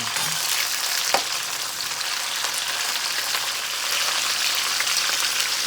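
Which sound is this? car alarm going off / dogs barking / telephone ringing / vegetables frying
vegetables frying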